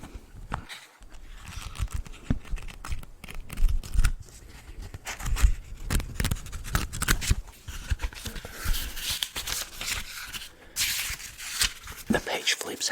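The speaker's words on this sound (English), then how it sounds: "The page flip sounds extremely satisfying." Repeated papery rustles and flips of notebook pages, close up, with crisp crackling bursts scattered through; faint speech may sit underneath.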